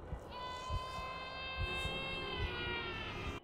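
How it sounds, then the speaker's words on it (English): A slowed-down baby's cry in F.E.A.R.: a long, drawn-out wailing tone with steady rising harmonics, like a vintage fire truck siren, sustained for several seconds over a low rumbling background. "this slow-motion baby's cry sounds like a vintage fire truck siren"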